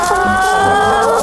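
Chickens on a farm clucking close by, a short burst of overlapping throaty clucks and squawks from several birds, loud and near, with no talking.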